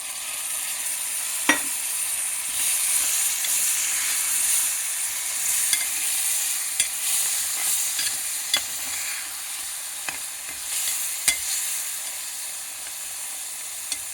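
Mutton fries in a pan with a little curd added, producing a continuous bright sizzle and hiss broken by sharp clicks and taps of a spoon against the pan.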